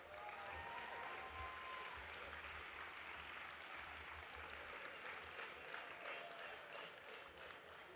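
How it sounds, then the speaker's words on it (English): Sustained applause from the audience at the Australian drinks awards in 2013, a dense crowd of clapping hands with a low murmur and faint voices underneath, holding steady the whole time. "Big round of applause for them."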